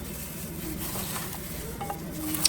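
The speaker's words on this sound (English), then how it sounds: "We're going to go ahead and pan sear it. Add my onions in it." Oxtail and onions sear in a pot for Sunday oxtail gumbo, giving a steady close sizzle with faint stirring scrapes and light clinks of utensils against the pot.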